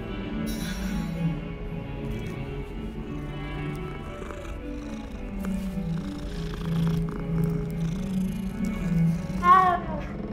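A cat purrs in the video game Hogwarts Legacy with a steady low rumble over about ten seconds under game background sound, ending with a short higher call near the end.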